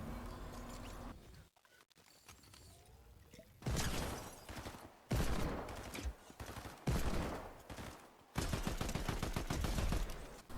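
Hand cannon gunfire crackles in a battle royale video game, several loud bursts of shots in separate clusters with quieter gaps between them.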